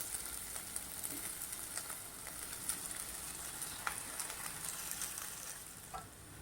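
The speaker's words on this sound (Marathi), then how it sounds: "तर आता एक मिनिटभर परतून घेऊ याच्यात मी उकडलेले चार बटाटे घेतलेत फोडी करून घेतलेत" Boiled potato pieces sauté in a hot oiled pan with cumin, giving a steady soft sizzle with faint scraping stirs throughout, fairly quiet and with no talking.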